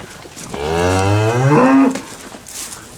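A person imitates a calf's call to draw a cow toward the pen on a cattle farm, giving one loud, close, drawn-out bleating moo that rises and falls over about a second and a half, with no talk around it.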